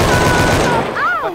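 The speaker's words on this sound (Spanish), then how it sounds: "Metralleta." Loud, dense machine gun fire in Left 4 Dead 2, a continuous rattling burst that fades slightly near the end while a voice briefly talks over it.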